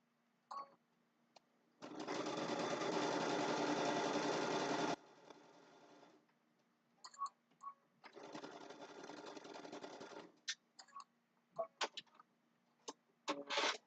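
A sewing machine stitches a quilt border seam in two long steady runs, the first about three seconds and the second about two, separated by quiet handling and light clicks and rustles of fabric.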